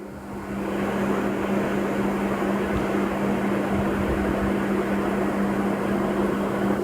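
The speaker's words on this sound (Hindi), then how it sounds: "पंखा चल रहा है, शोर आ रहा है।" A ceiling fan runs indoors, giving a steady, fairly loud broadband whir with a constant low hum that holds unchanged from start to finish, with no voices.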